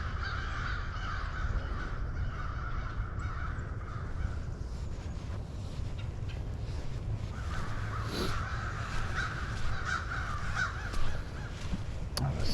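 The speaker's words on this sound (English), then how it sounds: "There's some crows this morning. Bunch of crows back here." Crows caw repeatedly in the morning at Pine Quarry Park, a flock calling at moderate distance in ragged overlapping bursts over steady outdoor background noise.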